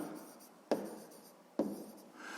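A pen or pencil writes out a maths exercise solution, the quiet scratching broken by two sharp taps as it strikes the page.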